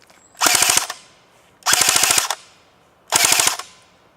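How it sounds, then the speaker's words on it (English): An AGM MP40 airsoft submachine gun fires BBs in three loud, close full-auto bursts, each a rapid rattle lasting about half a second, separated by short pauses. "you'll hear the noise of the gun anyway, and you'll see how long it takes to actually empty out"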